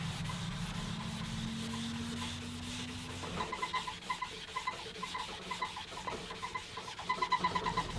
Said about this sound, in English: I'm going to wet sand this using some 1500 grit followed by 2000 grit.